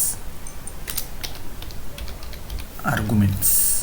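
Keystrokes on a computer keyboard while Python code is written, a run of sparse clicks under a voice, with a louder cluster of taps near the end.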